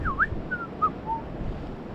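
A person whistles in imitation of the Canary Islands' whistled language, producing several short, sliding whistle notes in quick succession, fairly close and clear over a soft outdoor wind and background hiss.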